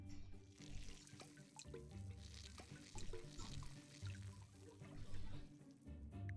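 Watering plants in Desperate Housewives: The Game, a steady run of water splashing and pouring over a bed of game music, continuous and fairly close for several seconds.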